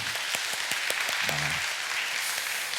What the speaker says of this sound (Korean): 우리 특별히 직장인들 우리 격려의 박수를 한번 해주면 좋겠습니다